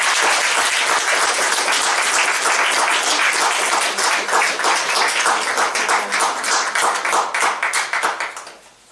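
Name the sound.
audience applause welcoming poet Sarah Pemberton Strong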